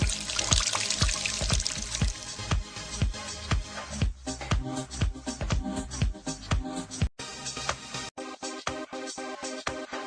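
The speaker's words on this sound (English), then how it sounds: "You will observe that the water will fall." Video-game effect of water pouring and splashing from a squeezed bottle, a run of quick repeated dribbling splashes that thin into sparser drips, with no voices.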